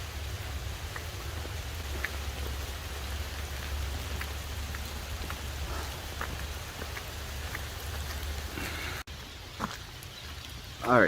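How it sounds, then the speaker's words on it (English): Heavy rain pours steadily on a car parked for the night, a dense even hiss of drops drumming on the roof with a low rumble beneath and a few louder spatters toward the end. "with this rain"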